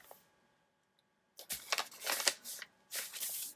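A paper envelope is handled and unfolded up close, giving two short bursts of crisp rustling and crinkling after a near-silent start.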